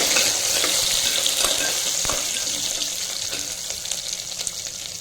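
Onions and curry leaves sauté in a pan for white kurma, giving a close, continuous sizzle and crackle with faint stirring scrapes and no talk.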